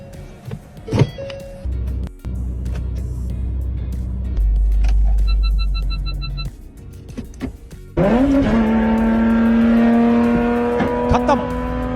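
A car engine revs and climbs through its gears, surging in loud steps with breaks between shifts, over a busy mechanical background with scattered clicks and a sharp tonal whine near the end.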